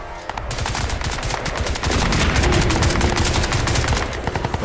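Rapid automatic gunfire from a weapon in the shooter game Crysis 2, a loud, continuous rattling burst of closely spaced shots that grows denser partway through, with no voices over it.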